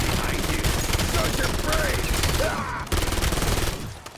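Rapid, continuous SMG gunfire in the Paradox Junction video game, dense and loud throughout, mixed with game effects and someone talking over it.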